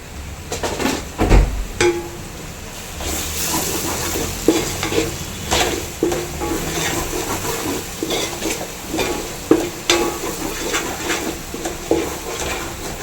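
Onions and masala for chicken biryani sizzle and fry in a pan while a spoon stirs and scrapes through them, with irregular metallic knocks and a steady hiss running throughout.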